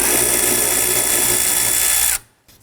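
A power tool spins a 12mm socket on a nut on a 2005-2009 Subaru Legacy 2.5L H4 engine near the serpentine belt idler pulley, a loud, steady whir for two seconds that then stops abruptly.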